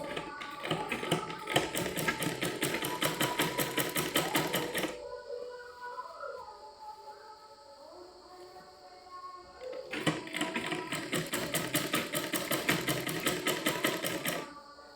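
A sewing machine stitches a double seam on a petticoat in two fast, rattling bursts of rapid needle strokes, close and loud, with a quieter pause between them.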